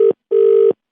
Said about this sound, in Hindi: मैं फोन काट रहा हूँ